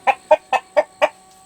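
A separated rooster gives five short, evenly spaced clucks in quick succession, close and clear against a quiet background.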